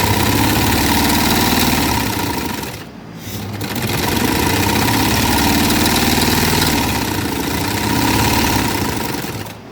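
Sewing machine running continuously while stitching a Balochi frock, a loud close steady mechanical whir that dips briefly near three seconds and then resumes.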